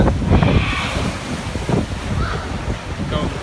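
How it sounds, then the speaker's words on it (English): Strong wind at sea on a cruise ship buffets the microphone in gusty, rumbling bursts, with a surf-like roar and a voice faintly audible underneath. "It's so windy out."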